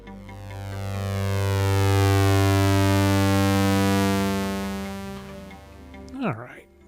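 A sustained synthesizer pad patch in the Vital wavetable synth, with a long attack and a huge release, swells slowly to full loudness, holds steadily, then fades away. A short vocal sound cuts in at the very end.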